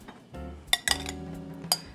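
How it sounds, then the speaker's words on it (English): A utensil stirs black beans and roasted sweet potatoes seasoned with salt and pepper in a dish, giving a few light close clinks and scrapes against the dish. "I'm gonna put a little salt and pepper on those and stir those up."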